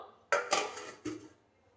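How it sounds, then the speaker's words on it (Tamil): A metal lid set onto a cooking pot of chicken biryani over medium flame, three close clattering knocks in quick succession, then quiet. "இப்போ மூடியை போட்டுருவோம்"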